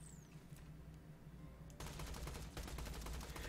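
Rapid automatic fire from a TDR pearlescent gun in Borderlands 2, a fast stream of close gunshots that starts partway through after quieter game ambience.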